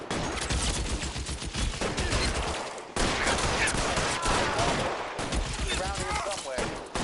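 In the PS4 game LA Noire, a long dense burst of gunfire rattles loud and close, rapid shots piling into continuous volleys with only brief breaks.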